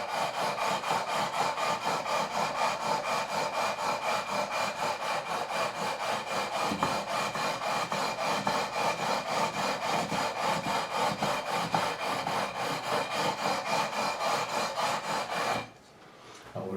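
A Squier Classic Vibe Telecaster fretboard is hand sanded to its radius. Fast, even back-and-forth rasping strokes run close and steady for about fifteen seconds before stopping briefly.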